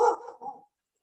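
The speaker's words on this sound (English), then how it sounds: "dog barking" A dog gives a single short bark with a brief second yelp right after, close and fairly loud, then silence.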